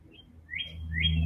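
A few brief, high chirps from a bird nearby, rising sharply, over a low background hum outdoors.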